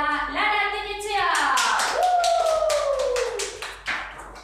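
Several people applaud in a hall during a diploma ceremony, a sustained burst of close, crisp clapping that carries under a voice and tails off toward the end.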